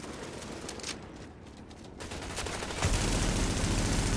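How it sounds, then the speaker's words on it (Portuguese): Gunfire in The Division video game during PvP play, a dense crackle of rapid shots that swells into a loud, sustained burst at the end, with no talk over it. "É porque ele deu um tiro em você."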